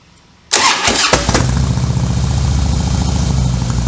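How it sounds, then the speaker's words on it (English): A Harley Softail motorcycle engine cranks briefly after a quiet moment, catches loudly and settles into a rough, loping idle with a steady throbbing rhythm. "Okay, of course, we started the bike."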